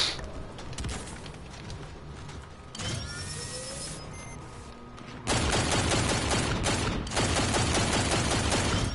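Rapid semi-automatic gunfire from a Call of Duty: Infinite Warfare match, loud and close, starting as bursts and becoming a dense, continuous volley in the second half over game effects.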